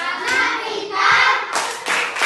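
Loud rhythmic group clapping from a fifth-grade class performing its class clap, a few quick bursts close together, with children's voices chanting underneath.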